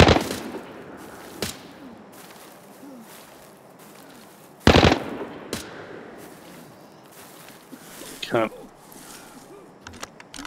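A few sharp single-fire gunshots in the Arena Breakout video game, spaced seconds apart over quiet background ambience, one loud close crack midway, with players talking.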